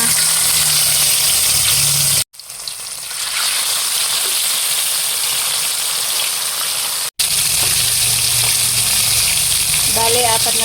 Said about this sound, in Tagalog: Ako po magpiprito na.